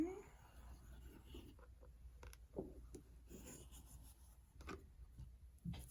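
Pencil tracing circles on paper for a craft project, giving a soft, faint scratchy rubbing that comes in short strokes with pauses, quiet and close.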